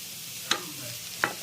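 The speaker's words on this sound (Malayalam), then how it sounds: "ഇനി നമുക്കത് ഇളക്കി വാങ്ങാം" A spoon stirs bitter gourd thoran in a pan, giving two brief scraping strokes about a second apart over a faint steady background hiss, with no one talking.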